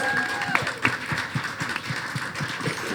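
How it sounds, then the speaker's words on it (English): Audience applause for festival panelists at a Lincoln Calling body-positivity talk, a dense, steady patter of many hands clapping throughout, with a few sharper claps standing out near the start. "let's give our panelists a huge round of applause"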